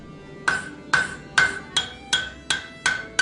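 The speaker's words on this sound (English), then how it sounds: "I use the peen section of my hammer to draw out the lugs or ears of the axe." Hammer blows on a viking axe being forged on an anvil, the peen drawing out the lugs: eight sharp ringing metallic strikes at a steady, slightly uneven pace, each with a bright ring that fades quickly, close and clear.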